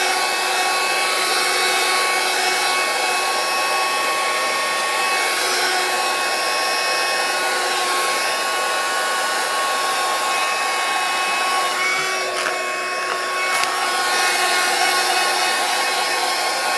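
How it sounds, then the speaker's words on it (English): A heat gun blows steadily and loudly for the whole stretch, drying a chalk-acrylic painted panel given a rusty industrial finish, with a broad, even whooshing hiss and a brief shift in tone near the end. "I'm just going to give it a quick blast with my heat gun just to dry it off"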